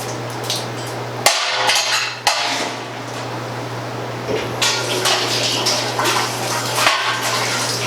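Scalding hot water rushing into a stainless steel Ss Brewtech brewing unitank during a rinse, a steady broadband splashing with a low hum underneath and a few sharp metallic knocks and clanks near the start.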